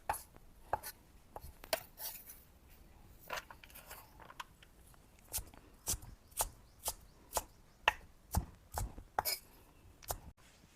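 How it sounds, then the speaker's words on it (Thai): Knife chopping ingredients for a Thai taro dumpling filling on a board, irregular crisp taps speeding into a steady rhythm of sharp close strikes, no talk. "หั่นให้เขาเล็กลงอีกนิดนะคะ"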